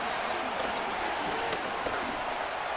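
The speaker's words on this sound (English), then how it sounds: "This crowd into it now as we get to third down" A stadium crowd in Madden NFL 25 roars steadily, a broad continuous wash of cheering and noise that stays even and loud throughout, with a voice faintly present within it.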